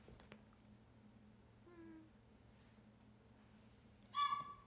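A cat meows once, a short clear call near the end, faint and indoors against a low steady hum, with a brief faint earlier cry.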